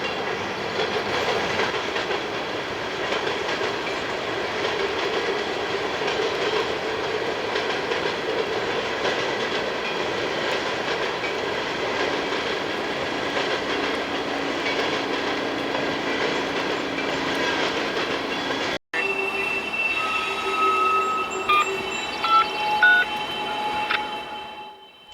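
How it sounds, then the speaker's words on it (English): A Norfolk Southern westbound empty freight train rolls past, a steady loud rumble of cars and wheels with clickety-clack and a brief squeal near the end, no voices. "This is westbound empty green train 51K, also fresh off the fuel pad."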